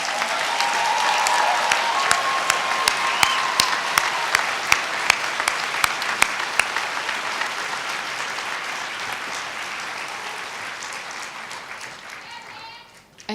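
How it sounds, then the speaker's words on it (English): Applause for graduates fills a commencement ceremony, with dense steady clapping from a large audience that slowly fades and sharp individual claps standing out near the start. "How about one more round of applause for all of our graduates?"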